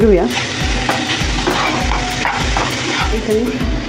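Pumpkin and jaggery filling sautéed in a pan, a loud, dense, continuous sizzle with repeated stirring strokes and a spatula scraping steadily, close up.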